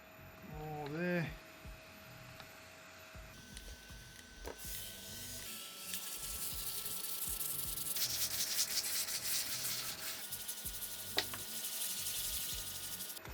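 Wet sanding a turned wood piece on a spinning lathe makes a steady close rubbing hiss that builds gradually over the motor's hum, with a voice briefly heard early on.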